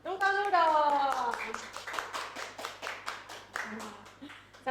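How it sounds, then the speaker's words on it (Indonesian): A small studio audience claps in an irregular patter for a few seconds to welcome a guest on a podcast, with a voice speaking at the start. "Tepuk tangan dong."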